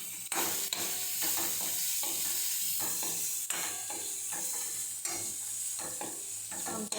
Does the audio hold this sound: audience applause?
no